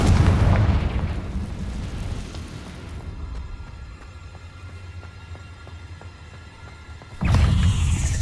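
Spell blasts in Hogwarts Legacy, including Confringo, boom with a heavy low rumble, fade into a quieter stretch of faint ticks and crackles, then erupt again in a fresh loud burst at the end.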